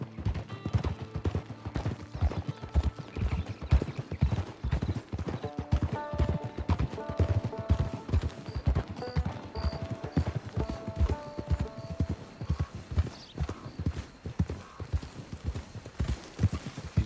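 Horse hooves clip-clop at a steady walking rhythm in the Western video game Red Dead Online, close and continuous for the whole stretch, with faint tonal background sounds beneath.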